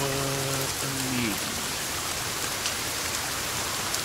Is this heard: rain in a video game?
yes